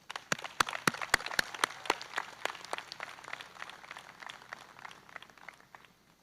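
Convocation audience applauding to welcome a speaker: a few sharp, close hand claps ring out over a softer spread of clapping that gradually thins and dies away.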